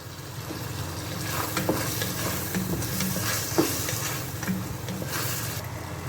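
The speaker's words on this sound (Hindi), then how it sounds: "अब मैं इसके अंदर चिकन क्यूब्स डाल रही हूँ।" Chicken cubes for egg fried rice sizzle steadily in a hot pan, a constant frying hiss with occasional stirring scrapes and small pops, close and even throughout.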